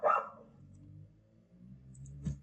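A single dog bark sounds at the start, fairly close, then fades into quiet room tone with a faint low hum; another short sharp sound comes near the end.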